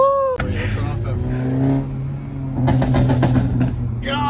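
A Hyundai Elantra N with a catless downpipe revs loudly up close, with sharp exhaust pops and crackles on the downshift. Voices are heard alongside the engine.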